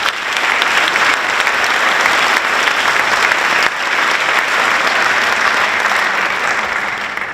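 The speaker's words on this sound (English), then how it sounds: "Round of applause." Audience at a high school scholarship night applauding, a dense, loud sustained wave of clapping from a large crowd that carries evenly and begins to taper slightly at the close.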